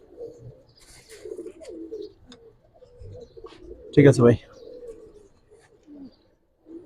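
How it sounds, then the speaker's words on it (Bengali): Old-breed pigeons coo at a market stall, low burbling calls running through the clip beneath men's bargaining chatter, with one louder close burst near the middle. "এই যে কবুতর দেখেন একবার পুরান জাতের কবুতর দেখেন"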